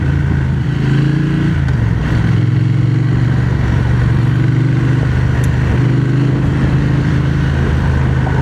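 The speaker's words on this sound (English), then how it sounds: "I'm riding a Triumph Speed Twin 1200" A Triumph Speed Twin 1200 Café Racer edition under way, its engine droning loud and steady beneath heavy wind roar, with no voices.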